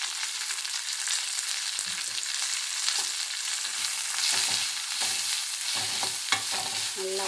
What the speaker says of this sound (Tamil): இந்த எண்ணெயிலே அதெல்லாம் வதங்கணும்